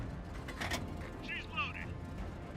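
Tank gun reloading in the World of Tanks video game: a short mechanical clack and a ratcheting metallic slide, close and fairly quiet over low background game noise.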